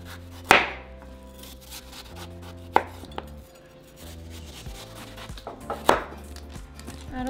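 A knife cutting the white rind off a watermelon on a cutting board: three sharp, close chops spaced a few seconds apart, with quieter scraping and handling sounds between them and a steady musical background throughout.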